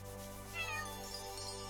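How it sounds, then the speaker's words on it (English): A cat meows once in the video game Chained Echoes, a short, clear mew rising over steady, sustained game music tones. "Oh, good kitty"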